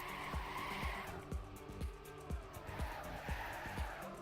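Race car drifting down a steep technical downhill in Trackmania, with repeated tire skid bursts over a steady engine drone and rhythmic thumping music beats, loud and continuous.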